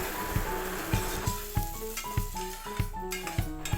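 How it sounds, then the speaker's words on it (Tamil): Chopped tomatoes frying with golden brown onions in a pan for moong dal sambar, a steady sizzle under a few rhythmic spoon-stirring knocks, close up and without speech. "இப்போ இதில் கட் பண்ணி வச்சுருக்க 2 தக்காளியை சேர்த்துக்கிறேன்"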